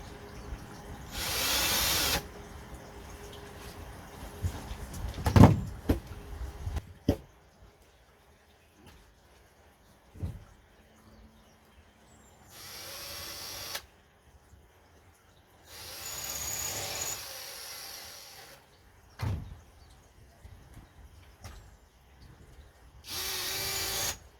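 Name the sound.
drilling holes in a wooden box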